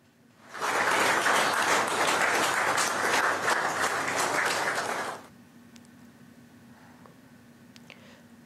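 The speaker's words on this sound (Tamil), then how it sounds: "அலுவலக அதிகாரிகள் மற்றும் ஊழியர்கள் கரகோஷம் எழுப்பி பிரதமர் நரேந்திர மோடியை உற்சாகத்துடன் வரவேற்றனர்" Office officials and staff break into loud, sustained applause for 4–5 seconds, then it stops abruptly, leaving a quiet room with faint background noise.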